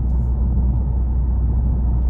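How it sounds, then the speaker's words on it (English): Low steady exhaust rumble heard inside the cabin of a 2021 Toyota Camry TRD with a 3.5 V6 while driving, a constant deep drone with mild road noise and no talk. "You still have that slight rumble from the exhaust."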